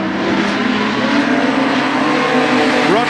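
Production sedan race cars roar around the Moora Speedway dirt track during an Australian Title heat, a dense, loud wash of engines with a rising rev sweep near the end.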